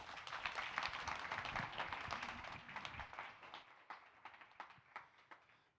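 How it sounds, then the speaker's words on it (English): Sustained conference audience applause, dense and steady at first, then thinning into scattered individual claps toward the end. "Big round of applause, everyone."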